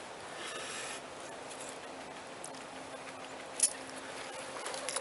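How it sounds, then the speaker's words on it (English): Magnesium shavings are scraped off a block in a quiet, steady rasp that stays fairly faint and close, with one brief sharp click partway through. "Some magnesium shavings here"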